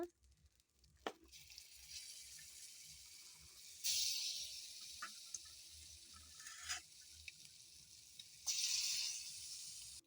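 Small hilsa jatka fish frying in oil in a pan, a soft steady sizzle that swells louder in two bursts, with faint clinks and stirring and no talk.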